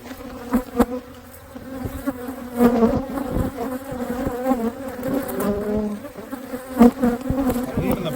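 Dense honeybee buzzing fills the air at an open single-brood-chamber hive being split in June, a constant swarm drone with individual bees zipping past the microphone now and then.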